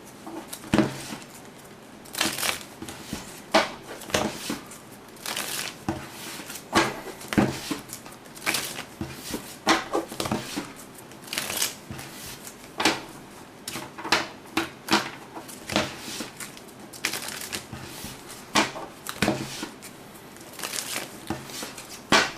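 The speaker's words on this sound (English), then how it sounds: "And let's shuffle it 7 times," A deck of Magic: The Gathering cards is split in half and riffle shuffled over and over, giving repeated short bursts of riffling and card snaps, close and moderately loud, with no talking.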